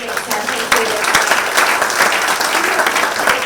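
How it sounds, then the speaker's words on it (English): A demo-day audience gives a loud, full round of applause at a youth founders summit, the dense clapping sustained throughout with a few sharper claps and some voices mixed in. "let us give a big round of applause to the next"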